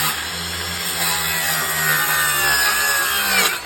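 A saw cuts through plywood for a fishing rod holder in one steady, continuous pass lasting a few seconds, close and fairly loud with no talking.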